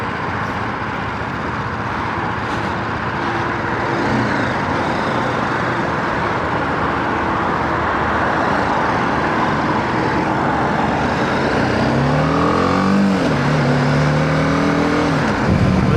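A BMW G310GS motorcycle rides along Emirates Road in Dubai at about 90 km/h, steady loud wind roar and engine drone throughout, with a rising revving whine near the end; no talk.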